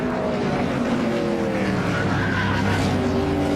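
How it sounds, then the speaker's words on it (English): NASCAR race cars spinning in a multi-car crash, giving a loud, sustained engine roar with tonal drone and tire noise, close and continuous with no talk. "More cars still spinning in this multiple car crash."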